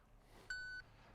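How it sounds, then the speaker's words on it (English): A single clean electronic beep from a Capto EZ 8 rowing sensor registering a stroke, steady in pitch and lasting about a third of a second, over faint background hiss. "it gave me a beep"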